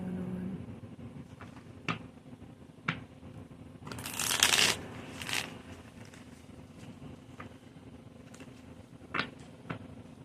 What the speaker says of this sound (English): Pull some cards for you.